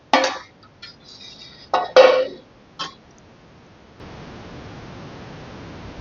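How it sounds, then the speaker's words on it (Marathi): A lid being put on a pot of sugar syrup, heard as a few short metallic clanks and knocks close by, followed by quiet hiss. "मी झाकण देऊन घेत आहे."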